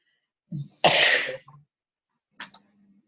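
One loud, harsh cough bursts out close by after a small throat sound, followed by a brief softer clearing.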